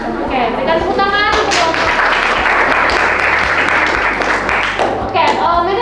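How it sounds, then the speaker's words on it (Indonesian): A classroom of students claps loudly after a group finishes presenting their poster, close, brisk applause mixed with excited voices and chatter throughout. "Oke, berikan tepuk tangan."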